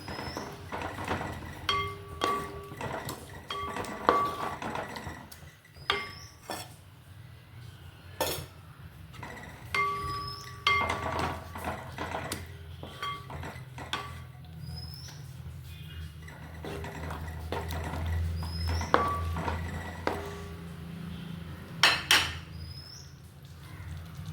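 A spoon clinks and scrapes against a metal pot while yogurt is stirred into beef biryani masala, with irregular knocks and clatters spread across the stretch, moderately close, with no talking.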